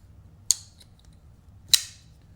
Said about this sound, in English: On the out, it makes a good thwack. On the in, it's a click.